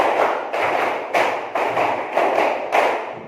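A classroom of students claps a patterned group clap in repeated bursts of five, six broad claps roughly every half second, fairly loud and room-filled, with no talking over them.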